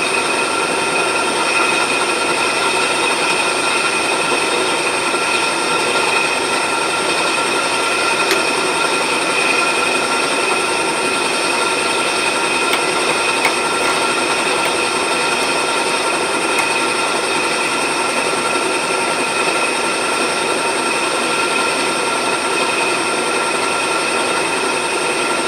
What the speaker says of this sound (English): I can just go straight down with this end mill down to depth, then pull out and then just trim the insides up